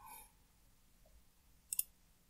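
A single computer mouse click, short and crisp, sounds during a walkthrough of Google Drive. A brief faint tone comes just before it, with otherwise quiet room background.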